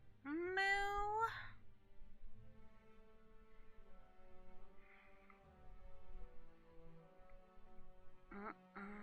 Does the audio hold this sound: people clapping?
no